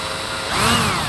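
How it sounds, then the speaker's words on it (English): A small drill bit boring into a deer skull being cleaned for a European mount, a short whining bite that rises and swells midway, close and fairly loud. "I'm gonna let you do the drilling"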